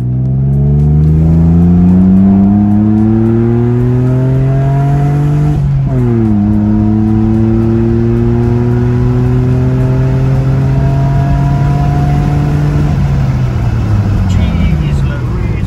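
A turbocharged 3.2-litre Mercedes M104 engine in a W203 revs hard through several gears, climbing in pitch with a quick shift drop midway, loud and close with a sustained roar.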